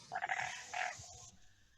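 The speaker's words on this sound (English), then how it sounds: "Did you hear the frogs?" Frog croaks from a swamp ambience track played during a tabletop role-playing session, two bursts of rough, rattling calls at moderate, somewhat distant level, fading into quiet.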